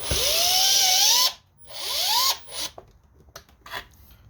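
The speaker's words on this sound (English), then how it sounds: "I'm just using my Milwaukee drill." Milwaukee cordless drill backing out H4 Torx screws on an old leaf blower, two rising high whirring bursts, then quieter clicks and ratcheting handling noises close by.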